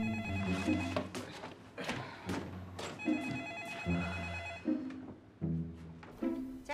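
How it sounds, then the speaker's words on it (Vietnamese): A telephone ringing indoors, repeated electronic ring bursts in a steady pattern with short pauses between them, moderately loud and close, with no one talking over it. "Điện thoại của mẹ con"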